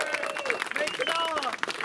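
A crowd at a Liseberg roller coaster club event cheers and claps in a short, dense burst. Whoops and voices rise over the clapping.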